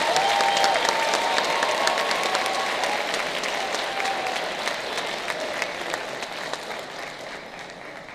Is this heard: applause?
yes